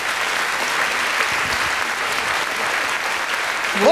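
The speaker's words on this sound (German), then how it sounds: "Klatscht ihn bitte auf die Bühne." Audience at a poetry slam in the Roxy club in Ulm applauds a performer onto the stage, sustained dense clapping from a nearby crowd, steady and loud throughout with a slight swell at the end.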